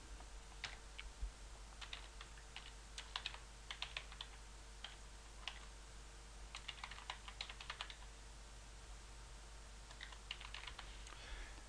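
Quiet, irregular clicks as a username is typed on a computer keyboard, with short flurries of keystrokes separated by pauses and a low steady hum underneath.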